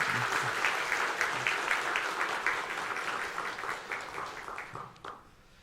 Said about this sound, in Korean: 여러분 격려의 박수 부탁드릴까요?